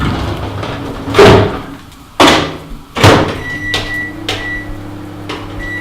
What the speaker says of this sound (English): I'll just put it in the microwave.